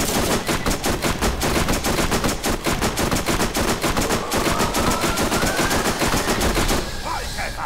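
Rapid automatic gunfire in the Borderlands video game during a boss fight, a loud, continuous stream of shots for several seconds before cutting off, with a faint laser-like whine underneath.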